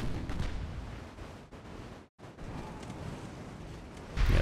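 Naval gunfire booms from battleship guns in Ultimate Admiral Dreadnoughts, with rumbling blasts and a brief drop to near silence midway before another heavy report at the end.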